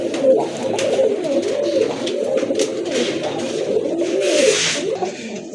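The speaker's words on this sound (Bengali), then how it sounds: "টপ লেভেলের এক জোড়া কবুতর" A pair of pigeons coos steadily in soft, overlapping rolling calls, close and continuous throughout with no talking.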